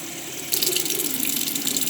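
Tap water pouring into a foam soap container, starting abruptly after a moment of quiet and then a loud steady gushing splash that continues to the end.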